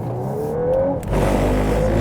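A VW Golf R Estate in drift mode with ESC Sport at a standstill, engine revving with a rising whine, then a sudden change as the braking intervention cuts in, leaving a loud, steady engine drone.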